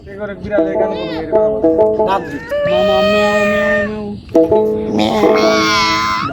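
A person imitates a cat, voicing a string of drawn-out, wavering meows up close, with short spoken bits between them.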